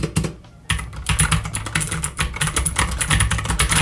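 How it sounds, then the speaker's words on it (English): Rapid clacking of keys on a Royal Kludge RK-61 portable mechanical keyboard, a dense run of crisp, close-up keystrokes after a brief pause, steady and fairly loud throughout. "And now let's listen to these keys."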